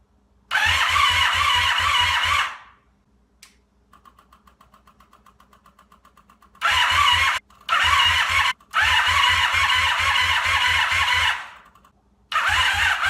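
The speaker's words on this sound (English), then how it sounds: "I'm gonna try again to start it and see if I can get the thing to start" Small engine cranking and catching in repeated bursts on fuel fed from a gas can, loud and close, with a quiet pause between attempts and the running sputtering out each time.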